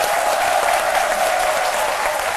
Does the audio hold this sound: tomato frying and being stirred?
no